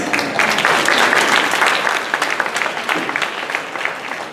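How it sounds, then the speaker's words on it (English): Audience clapping at a salon hair cutting and color show, a dense burst of applause that peaks early and then thins into scattered, tapering claps. "Salon Center should get a great round of applause for promoting it, please."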